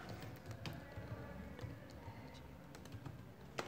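A computer keyboard is typed on with a quiet, irregular patter of soft key clicks, heard faintly and close, with no talking.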